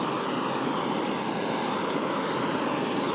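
Portable adjustable camping stove burner running steadily outdoors, a constant loud roaring hiss with no breaks, close by and alone without talk.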